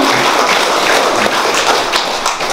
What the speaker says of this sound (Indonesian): mari kita beri aplaus terhadap hasil